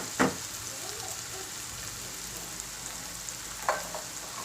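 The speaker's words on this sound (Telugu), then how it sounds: "2-3 మినిట్స్ మనం ఫ్రై చేసుకోవాలి." Cardamom and cloves fry in hot oil, a soft, even sizzle held throughout, with two brief scrapes or clinks near the start and again toward the end.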